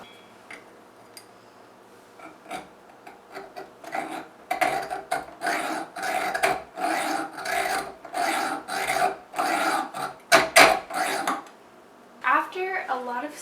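Rhythmic back-and-forth sawing, probably a hand saw cutting through a piece of material at a sewing and DIY workbench, steady close strokes for several seconds, then stopping, with faint voice-like sounds at the end.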